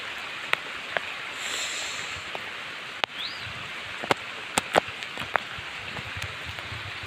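Downpour in rural Konkan fields keeps up a constant, even wash of rain, punctuated by sharp individual drops and drips striking close by, with no one speaking.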